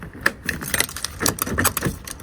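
Metal keys jangle and click as an HGV driver's door lock is tried, a series of short, sharp clinks and rattles close by, with faint handling noise between them.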